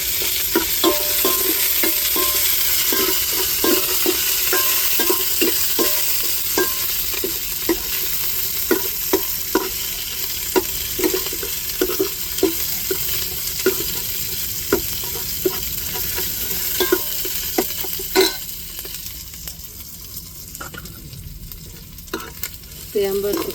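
Garlic, dried red chillies and curry leaves tempering in hot oil in a pan for coconut milk rasam, a steady close sizzle and crackle with frequent stirring clicks and scrapes throughout, no talking.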